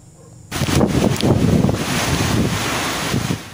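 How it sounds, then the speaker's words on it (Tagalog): Typhoon Paulo brings strong wind gusts and heavy rain to Dinapigue, Isabela, a loud, rushing roar that starts abruptly and holds steady before easing slightly at the end. "Sinabayan ng hampas ng hangin ang malakas na ulan sa Dinapigue, Isabela."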